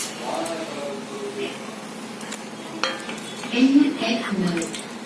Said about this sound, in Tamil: எண்ணெயில் போட்டு கொஞ்சம் வதக்கணும்.